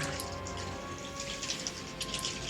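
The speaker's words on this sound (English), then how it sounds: "I can't really hear myself over the rain" Steady rain falling, a dense, even patter of drops with faint sharper splashes, continuous and fairly close with no talking.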